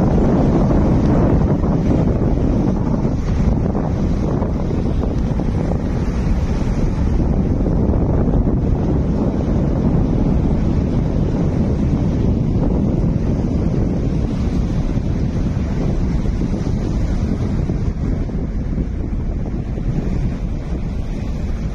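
Water released through the 26 raised crest gates of the Nagarjuna Sagar dam roars in a dense, unbroken rush, heavy and loud, with wind buffeting the microphone throughout.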